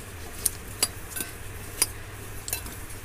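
A spoon clinking against a bowl while mixing bread, onion and spices, with about six light, sharp metallic taps at an uneven pace over a quiet background hum.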